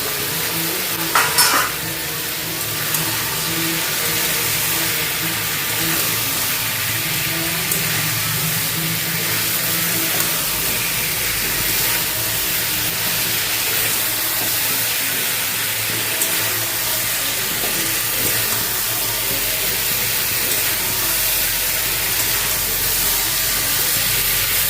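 Eggplant pieces cook in a pan with added water, giving a steady, continuous hiss and bubbling sizzle with occasional stirring, close and alone with no talk.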